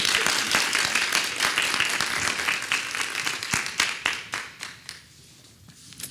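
A conference audience applauding at the close of a session, a dense wash of many hands clapping close and loud, thinning out and fading toward the end with scattered last claps.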